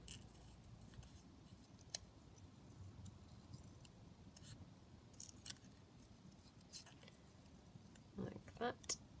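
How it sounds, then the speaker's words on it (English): Scissors snip around a paper butterfly cut from craft paper, a few close, crisp cuts near the end under a low, steady background hum. "Just cut around that."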